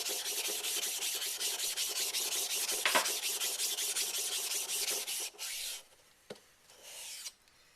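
Close, steady rasping scrub of a Shapton waterstone being rubbed flat for leveling, continuous for about five seconds, then a few short strokes and a brief knock.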